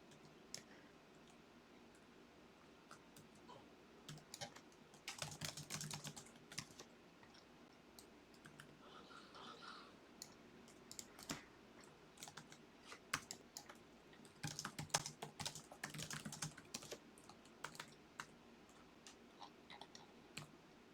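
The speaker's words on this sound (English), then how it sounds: "I'm typing away." Steady typing on a computer keyboard, with quiet clicks and busier bursts of keystrokes spread across about twenty seconds while playing a game, no speech.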